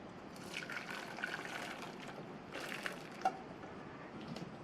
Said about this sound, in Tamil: ஒரு பாத்திரத்து மேலே இந்த வடிகட்டியை வச்சு வடிகட்டிக்கலாம்.